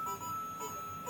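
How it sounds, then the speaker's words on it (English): A Nintendo Alarmo alarm clock goes off with a short, steady electronic tone that rings out clearly and alone for about a second. "So alarm's going off."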